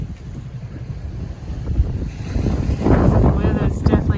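Strong wind of about 25 knots buffets a sailboat running under mainsail alone in rough seas, with rushing wind noise across the microphone and surging water building louder toward the end.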